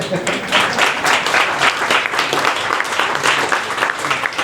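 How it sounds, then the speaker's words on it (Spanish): A lecture audience claps for an event organizer at a Spanish science talk, loud close applause with a fluttering rhythm that stays strong throughout. "Muy bien, un aplauso para el MOI"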